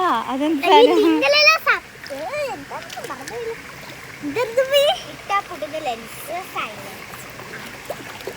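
Rising water rushes and splashes steadily through a canal, a continuous wash running under loud, lively voices, including a child's.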